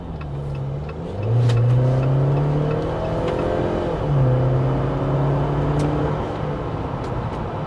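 A 2024 Jeep Wrangler Sahara with a 2-liter turbocharged four-cylinder drives on the road, its engine note climbing in two clear revving pulls over a steady hum of tires and wind.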